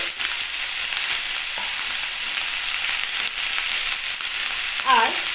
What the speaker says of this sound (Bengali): বাকি সমস্ত সবজিগুলোর সঙ্গে একটু ভেজে নিতে হবে